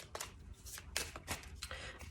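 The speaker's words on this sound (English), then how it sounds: "Give them a shuffle." A deck of tarot cards is shuffled by hand, giving soft, quiet riffling and slapping bursts in an irregular rhythm, close up with no talking.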